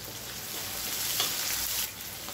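Onion and green chili sauté in a pan with a steady, close, broadband sizzle that swells slightly midway and eases near the end; no voices.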